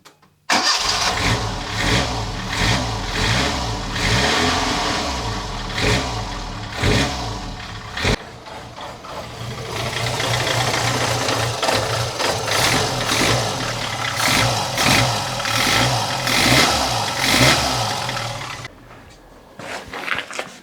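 Abarth A112 engine running with noisy, ticking tappets, a steady close idle that rises in brief throttle blips, with a short dip and restart near the middle and no talk over it.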